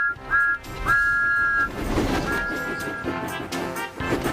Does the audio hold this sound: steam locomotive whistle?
yes